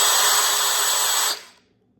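A DeWalt cordless power drill whines loudly at a steady high speed for just over a second, then cuts off and winds down into near silence.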